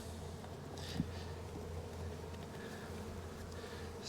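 Honeybees buzz steadily around an open hive during an inspection, a close, continuous drone with a faint knock near the start and no talking.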